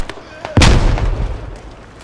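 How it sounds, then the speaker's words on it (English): A grenade launcher fires in a tactical squad video game, followed by a loud, close explosion that booms and rumbles away over about a second and a half. "Another grenade, Grenadier, please. I'll keep firing those grenades."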